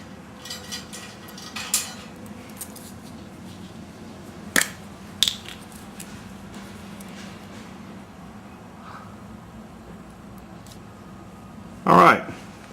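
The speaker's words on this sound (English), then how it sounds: "As recommended by Michael, I'm going to go ahead and pull that bolt back out and drop a little bit of blue Loctite on it." A bolt is loosened and backed out with a wrench so blue Loctite can be applied, giving scattered sharp metallic clicks and ratcheting ticks over a low background hum, with a louder rattling burst near the end.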